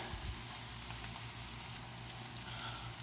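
Onions sizzle and fry in a pan, browning with a steady, soft crackling hiss and occasional pops, quiet and continuous with no talking.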